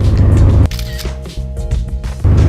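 A single-lens reflex camera snaps a picture with a sharp shutter click near the middle, close and loud, while a car engine hum rumbles underneath.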